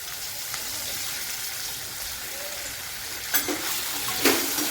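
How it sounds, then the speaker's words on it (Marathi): Tomatoes dropped into a hot pan sizzle in a steady broadband hiss for a tomato thecha, with two brief louder spatters near the end. "त्यानंतर मी त्यामध्ये टोमॅटो टाकते।"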